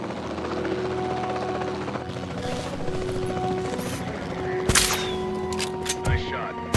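A helicopter in Jurassic World Evolution 2 whirs in a steady rotor drone throughout, under a voice, with a few sharp cracks and thumps toward the end.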